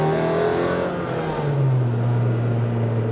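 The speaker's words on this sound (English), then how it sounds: "this car has an aftermarket exhaust on it, so it's extra irritating when you rev it." A 1999 Honda Civic Type R EK9 with a B16B engine and an aftermarket exhaust drones continuously, its engine note rising and settling, loud and close with no talking.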